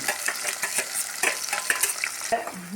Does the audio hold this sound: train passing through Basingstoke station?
no